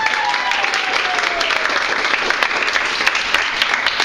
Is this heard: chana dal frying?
no